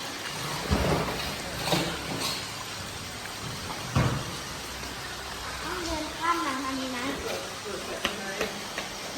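Rain falls steadily at a Buddhist temple in Thong Pha Phum, Kanchanaburi, with soft hiss and scattered drips and splashes, plus a few louder knocks and some faint background sounds.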